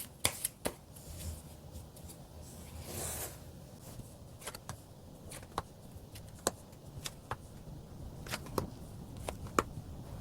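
Tarot cards being shuffled, a steady papery riffling with sharp flicks and taps scattered through, close and fairly quiet with no talking.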